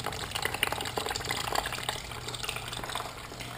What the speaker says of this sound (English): radiator cap, and just let it drain